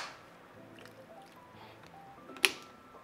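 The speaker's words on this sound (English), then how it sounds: "So now let's add a couple drops." A couple of drops of fertilizer solution falling into a container of tap water, a single sharp drip standing out clearly against a quiet background.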